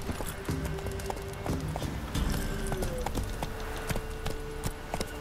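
Roach the horse's hooves clip-clop in The Witcher 3, a quick irregular run of sharp hoof strikes over a bed of faint game ambience, with a short tonal sound cutting through.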